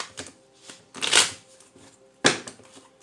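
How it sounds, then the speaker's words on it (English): Tarot cards shuffled by hand at close range, a few short riffling bursts with brief pauses between, one long sweep in the middle and a sharp snap near the end. "Let me shuffle these up."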